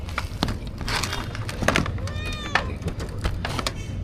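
Several cats meow at feeding time, with short, tonal calls repeating close by over a soft background of rustling and movement, while a person talks quietly.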